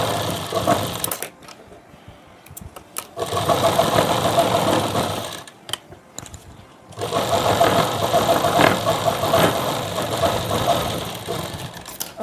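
A sewing machine stitching a salwar whirs in two sustained mechanical runs with a rapid rattling rhythm, separated by a brief pause with a few clicks and handling noises.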